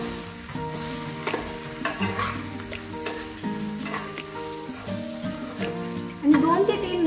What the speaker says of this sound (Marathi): आता आपण यामध्ये शेवया टाकून घेऊ। आपल्याला एकदम हळूहळू आपल्या शेवया मिक्स करायच्या आहे।